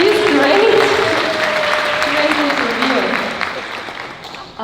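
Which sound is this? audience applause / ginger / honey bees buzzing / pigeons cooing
audience applause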